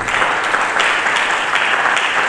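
A church congregation claps together in loud, continuous applause, a thick, even roar of hands with no pause from start to finish.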